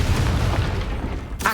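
A Confringo spell blast booms in Hogwarts Legacy, a dense rumbling burst that fills the moment, with a sharper crackle flaring near the end.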